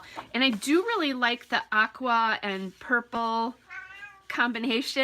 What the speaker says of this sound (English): I'm sure you can hear that because she's being very loud at the moment.